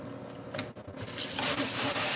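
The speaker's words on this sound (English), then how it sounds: "I'm going to just rinse out the cornbread." Tap water runs into a sink while a cornbread baking dish is rinsed out, with a steady close gush that swells louder after a short dip.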